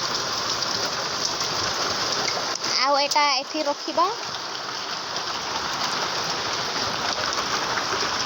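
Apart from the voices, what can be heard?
heavy rain falling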